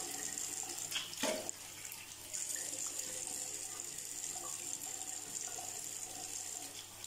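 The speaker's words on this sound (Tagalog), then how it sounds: "Sobrang sarap ng feeling pag binanlawan mo yung mukha mo ng" Cold water splashes and runs as a face is rinsed, a steady soft trickle and faucet flow with a brief louder splash near the start, fairly quiet and close.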